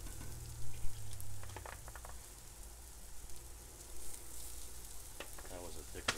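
Quinoa veggie burgers crisp in a pan, a quiet steady sizzle with a few sharper crackles and scrapes now and then.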